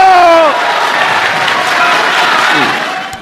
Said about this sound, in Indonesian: Kemudian tepuk tangan dan sorak-sorai peserta kongres tambah meriah lagi